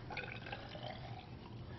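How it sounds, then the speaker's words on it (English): Liquid for an elephant toothpaste reaction is poured quickly, giving a continuous gurgling, splashing flow with small drips, close and fairly loud with no voices. "So I'm going to pour this one really quick."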